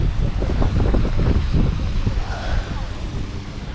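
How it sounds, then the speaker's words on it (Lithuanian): Wind blows at a beach in Hurghada, Egypt, a loud, continuous buffeting rumble across the microphone with a soft wash behind it, steady throughout. "Šiandien vėjuota šiek tiek."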